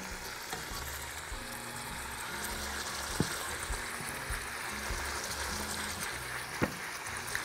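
Pieces of beef shank frying in hot oil for kabsa, giving a steady, even sizzle throughout, moderately quiet, with a couple of brief clicks from the pan.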